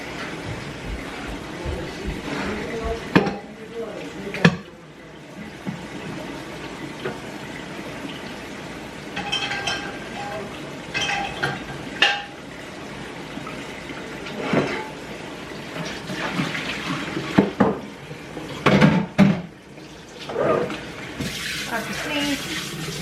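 Dirty dishes are washed at a sink under running tap water, with dishes clattering and clanking now and then, while people talk at times.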